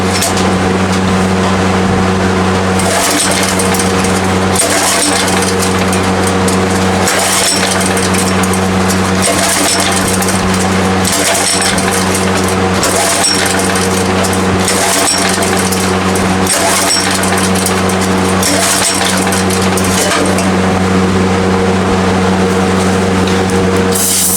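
Generator engine running steadily close by, a loud continuous rumble with a rhythmic chugging pulse throughout.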